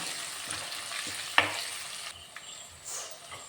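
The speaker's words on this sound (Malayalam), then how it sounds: "ഇനി ഇതിൽ നന്നായിട്ടൊന്ന് വഴറ്റിയെടുക്കാം" Green chillies and curry leaves sautéing in a pan, a close, steady sizzle with a sharp spatula scrape or clink near the middle, then the frying softens and settles.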